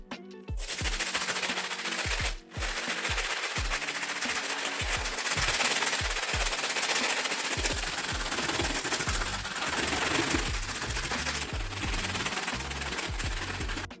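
Stiff brush scrubbing the outsole of a Nike Dunk SB sneaker, a loud, rapid, rattling run of short strokes going almost nonstop with one brief pause, close up and with no talk.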